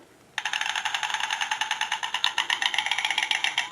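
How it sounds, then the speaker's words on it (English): A toy crane bird call: rapid, rattling mechanical chatter starts abruptly and keeps up a fast, steady pulse, like a wind-up toy bird clacking close by. "That's the sound of a crane."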